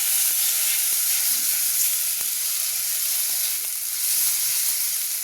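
Chopped ginger and urad dal fry in hot oil, giving a constant, close hiss and sizzle with faint scattered pops and clicks and no voices.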